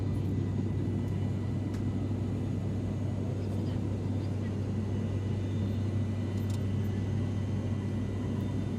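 A steady, unbroken roar of airliner engines fills the cabin at cruising altitude, a dense low rumble with faint hiss that stays constant throughout.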